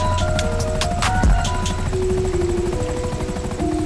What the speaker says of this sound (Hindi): हेड ऑफिसर हेलीकॉप्टर को लैंड करता है